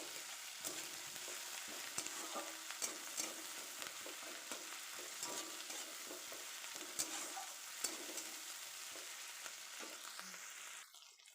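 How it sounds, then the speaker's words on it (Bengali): Ginger garlic paste with tomato sizzles steadily in hot oil for an oyster curry, with frequent scrapes and clicks of a spatula stirring the pan close by; no one speaks. "দিয়ে ভালো করে আদা ও রসুনটাকে ভেজে নেব।"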